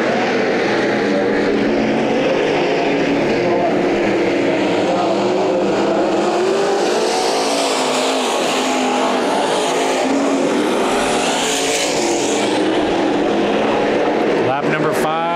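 Race cars roar around Bakersfield Speedway during a heat race, engines loud and continuous as they battle for the lead, with a commentator talking over the din.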